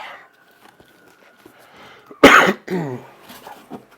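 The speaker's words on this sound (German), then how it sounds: "Ihr müsst das Husten entschuldigen." A few harsh, loud coughs burst out close by in the middle of an otherwise quiet stretch, followed by a softer throaty rasp.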